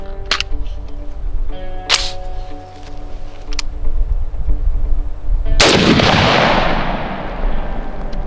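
An AR pistol with a 10.5-inch barrel fires standard .223 55-grain rounds at cheap body armor outdoors. Several loud, sharp reports ring out, the last followed by a long rolling echo.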